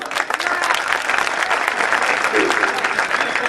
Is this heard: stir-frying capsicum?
no